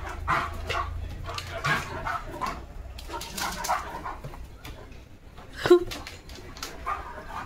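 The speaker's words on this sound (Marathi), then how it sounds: "कुत्रा आहे त्यांच्यासोबत एक" A German Shepherd barks outdoors in the rain near horses, giving a few scattered barks and one sharper, louder bark, with people talking around it.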